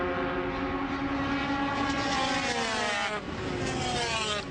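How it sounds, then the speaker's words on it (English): A 250cc Aprilia Grand Prix motorcycle screams loud and close from onboard, its high engine note rising through the gears and held flat out through a right-hander. "You can hear the engine note on a 250 when we're on the onboard there."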